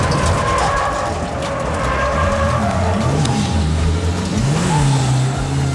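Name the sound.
revived race car accelerating on track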